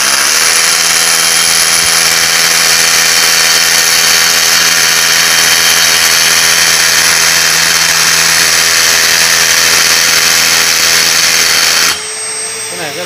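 A Makita drill with built-in dust extraction bores into a concrete block, giving a loud, steady whining drone with vacuum hiss that cuts off abruptly near the end.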